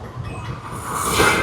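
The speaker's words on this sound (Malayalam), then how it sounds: "മെട്രോ ഒരെണ്ണം പോകുന്നു" A Kochi Metro train passes at Kaloor Junction with a faint, rushing rumble that swells toward the end of the short moment. Street noise sits beneath it.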